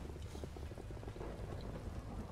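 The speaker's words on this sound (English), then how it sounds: "It's starting to rain as well." Rain falling in the Minecraft: Story Mode video game, a dense steady hiss and patter with a faint low rumble, quiet and continuous with no talking.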